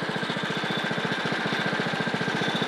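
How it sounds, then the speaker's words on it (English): A motor runs while milling lumber, a steady close chugging throb with a fast, even pulse and no pauses. "Motor's been running for a little bit."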